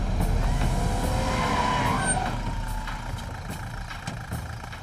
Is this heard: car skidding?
yes